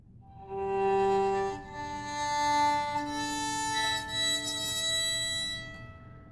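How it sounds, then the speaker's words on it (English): An acoustic violin fitted with a heavy mute plays a slow bowed phrase of several sustained notes, muffled yet still clearly audible and fairly close, with no voices over it. "this is the sound of the acoustic violin with the heavy mute."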